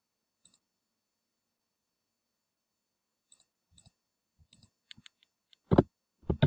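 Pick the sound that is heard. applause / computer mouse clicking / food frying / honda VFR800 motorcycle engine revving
computer mouse clicking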